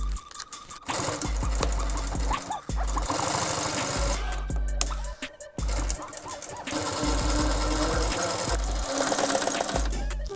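A sewing machine stitches bucket seat upholstery in bursts, its rapid mechanical chatter starting and stopping repeatedly up close with brief pauses between runs.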